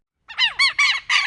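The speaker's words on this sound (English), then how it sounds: "Lapwing." A lapwing calls in four rapid, harsh squawking notes, loud and close, starting after a brief silence.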